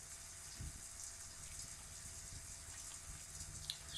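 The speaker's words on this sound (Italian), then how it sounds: "Ah, ok, sta ancora facendo la doccia" Shower water running in The Sims 4 video game, a faint, steady hiss of spraying water with occasional soft low thumps, quiet and continuous with no talk.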